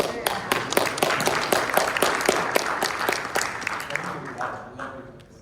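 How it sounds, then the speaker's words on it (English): Conference audience at a Salesforce test automation talk gives a round of applause, distinct sharp claps in a moderate steady burst that thins out toward the end. "Can I get a round of applause?"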